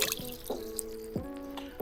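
Raspberry wine mixture, made with infused water, is poured and splashes into a container, giving a few quiet liquid plops and drips spaced out over a short moment. The pouring sounds close but soft, and no voices come through.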